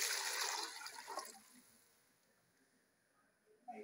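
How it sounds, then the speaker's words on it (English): Stock pours into a cooking pot for ogbono soup, a brief splashy liquid rush that fades to quiet after a second or so, with a small knock at the end. "So I'm pouring my stock."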